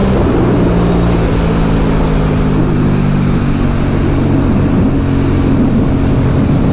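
A twin-cylinder Aprilia Dorsoduro 750 motorcycle engine revs high toward 8,000–9,000 rpm, a loud close droning whine that rises then eases, masked by heavy wind noise.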